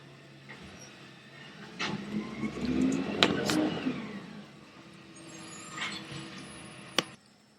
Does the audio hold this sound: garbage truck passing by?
yes